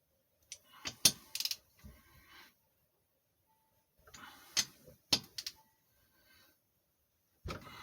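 A ratchet snugs down bolts on a Tecumseh HH100 engine in several short bursts of sharp close clicks separated by quiet pauses.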